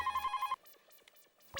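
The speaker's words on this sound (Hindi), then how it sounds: "अरे सेठ जी, फोन बज रहा है।" A telephone bell rings in a rapid trilling burst, then stops, leaving faint noises before a short loud sound at the end.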